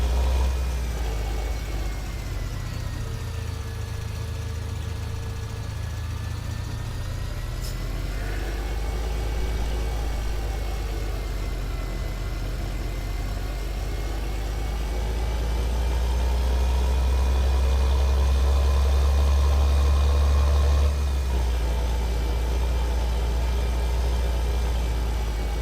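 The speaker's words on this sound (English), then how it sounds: "I don't know if this tractor's really going to handle it" Tractor engine running steadily close by, a constant low idling drone that swells slightly in the second half, with no talk over it.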